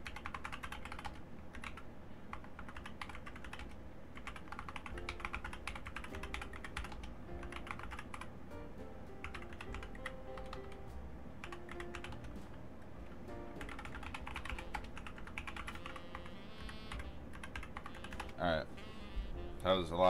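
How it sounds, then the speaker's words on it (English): Fast, continuous clicking on a computer keyboard runs close and steady throughout, with brief pauses between bursts of keystrokes. "Typing."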